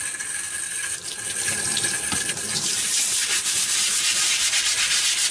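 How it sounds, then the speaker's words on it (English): Scrubbing a painted taxidermy face with hot soapy water: a steady, close rubbing and brushing sound with wet washing noise, continuous and growing slightly louder toward the end, with no talking. "scrub the face with hot soapy water"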